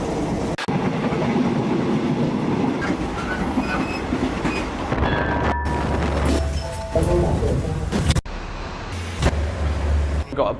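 A train rumbling along the tracks with clattering wheels and occasional squeals, steady and close throughout.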